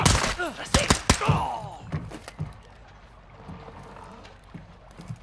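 Gunfire in Call of Duty: Modern Warfare 2 at Amsterdam smuggling docks, a rapid cluster of loud sharp shots close by, followed by a few scattered quieter bangs and ambient rumble.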